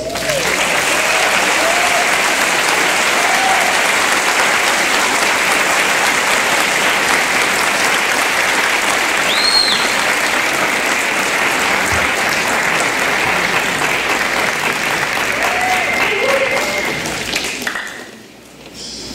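An audience at a concert with a symphony orchestra applauds for a guitarist, a dense, loud, sustained wash of clapping that fades toward the end.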